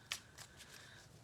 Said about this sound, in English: All right, I'm just going to shuffle.